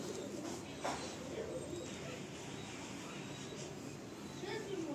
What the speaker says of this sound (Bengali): তো বন্ধুরা এরপরে আমরা গিরিবাজ পায়রা শখ করব।